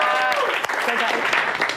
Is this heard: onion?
no